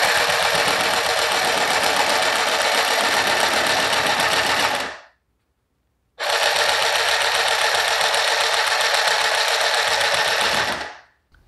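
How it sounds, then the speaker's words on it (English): A handheld sewing machine stitches fabric on a play yard in two long, loud, steady runs of rapid mechanical chattering separated by a brief pause. "So I'm gonna try to see if I could secure this with this handheld sewing machine."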